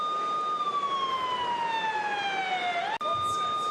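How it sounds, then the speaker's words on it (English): A wailing ambulance siren at a wrestling show sweeps steadily downward in pitch, loud and continuous, cutting off abruptly near the end before resuming briefly. "Those sirens would lead to a scene that Randy driving that ambulance"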